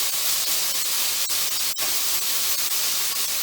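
Water in a pot on the stove nearing a boil gives a steady, close, broadband hiss and rush, broken by a couple of brief clicks or knocks, with no voices.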